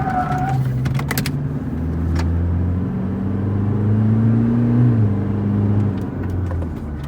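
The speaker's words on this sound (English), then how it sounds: "So guys, we are going to launch the car right now." A stage 2 tuned Toyota Fortuner with 550 Nm and launch control accelerates hard from a standing launch. A loud, close engine roar rises through the gears with a steady low rumble and no talking.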